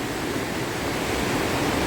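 Water at Hogenakkal waterfalls rushes hard in a dense, unbroken roar, loud and close, with a low wind-like rumble and no voices.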